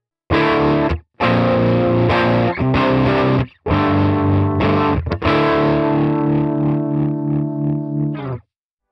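An electric guitar played through a harmonic tremolo effect set to a triangle waveform on CorOS 3.1.0 firmware, with sustained distorted chords that pulse and warble, broken by short gaps between strummed phrases before fading out.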